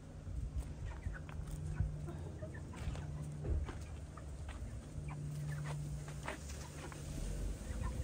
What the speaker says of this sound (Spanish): Ay, miren las gallinas.